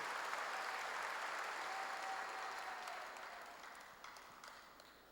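A crowd applauding steadily, dense clapping that slowly fades over a few seconds.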